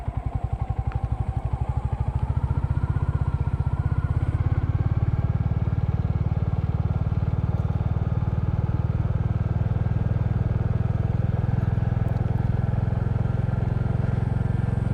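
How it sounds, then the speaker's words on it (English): A Royal Enfield Classic motorcycle rides in second gear, its single-cylinder engine chugging in a steady, loud low-frequency thump that builds over the first few seconds, then holds with a constant beat. "I'm just testing the second gear chuggability of the Classic today"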